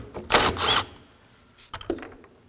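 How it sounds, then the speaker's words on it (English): A 10mm socket wrench ratchets on radiator fan bolts of a 2014-2020 Acura MDX, giving two quick bursts of close metallic clicking, then lighter taps and clinks. "Using a 10mm socket, we're gonna remove those."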